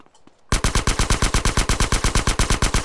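Rapid automatic gunfire from the video game GTA San Andreas starts abruptly after a quiet moment and then keeps up an even, loud, evenly spaced burst of shots.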